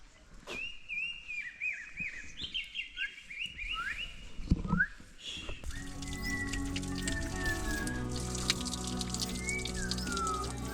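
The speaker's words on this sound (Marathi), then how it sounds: "इकडे बघा बरं पक्षी किती छान आवाज करतायत" Birds sing and whistle at Rajgad fort in the Sahyadri hills, with bright chirping phrases early on and dense, overlapping calls joined by a steady background later, moderately loud and with no talk.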